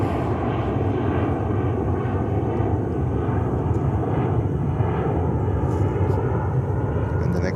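JetBlue A320 airliner taking off at JFK, a steady, loud broadband engine roar holding constant throughout, with faint higher whine tones on top.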